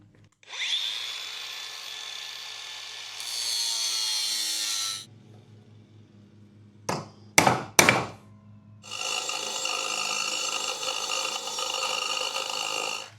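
A power tool cuts through rebar up close with long, bright grinding whines in two stretches, separated by a quiet gap and a few sharp metallic clanks.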